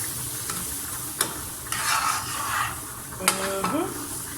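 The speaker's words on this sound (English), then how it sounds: "Can you hear that fry happening?" Peppers sizzle and crackle steadily in a hot pan, with a few sharp clinks and stirring scrapes of a utensil against the pan.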